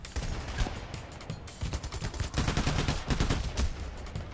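Rapid gunfire in the heist shooter PAYDAY The Heist while taking out rooftop snipers, dense bursts of repeated shots in a fast, uneven rhythm, fairly quiet and continuous.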